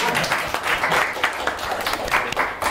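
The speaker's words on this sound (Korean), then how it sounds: "박수 부탁드립니다." Applause from a youth seminar audience, a lively but thinner crowd with individual claps distinct in an uneven, rhythmic patter throughout.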